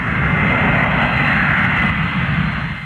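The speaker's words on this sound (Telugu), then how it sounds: "ఫ్లైట్ వెళ్ళిపోయేలా ఉంది" Airplane engine at an airport, a loud, steady, close roar that holds without a break from start to finish, with no voices over it.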